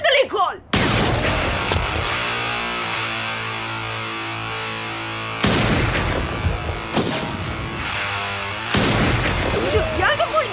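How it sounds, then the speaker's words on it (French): Gunshots ring out in a school zone in a 1998 Troma film: three loud, sharp blasts at intervals, each trailing into sustained ringing tones and layered soundtrack noise. "Il est interdit de tirer des coups de feu dans l'enceinte de l'école."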